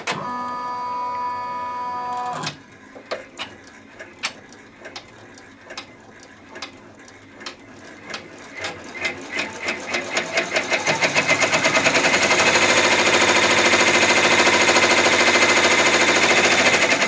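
An embroidery machine stitches an in-the-hoop pot holder, starting with spaced mechanical clacks that quicken into a dense, continuous whirring rattle, close and steady.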